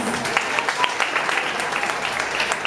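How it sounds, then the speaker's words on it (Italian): Audience applause at a live talent show, a steady crowd clapping with some sharper individual claps standing out, moderately loud and continuous. "E allora ancora un applauso per Thomas."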